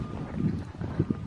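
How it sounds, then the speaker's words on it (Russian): Steady gusting wind buffets the microphone, a continuous low rumble with a few stronger swells and no voices. "Ой, какой ветер колючий."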